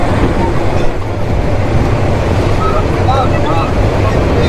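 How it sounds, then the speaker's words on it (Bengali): The Tista Express intercity train pulls out from platform 1 at Islampur Bazar station with a steady, loud rumble mixed with wind buffeting, and people talk over it. "রাইট নাও ডিপার্চার নিচ্ছে আন্তনগর তিস্তা এক্সপ্রেস ইসলামপুর বাজার রেলওয়ে স্টেশনের 1 নম্বর প্ল্যাটফর্ম থেকে।"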